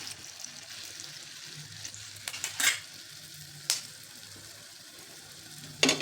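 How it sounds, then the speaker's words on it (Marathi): A small piece of coriander and moong dal vadi drops into hot frying oil, giving a soft steady sizzle broken by a few sharp crackles and a metallic clink, quiet and close, with no talk. "थोडा तुकडा अगोदर टाकून बघायचा."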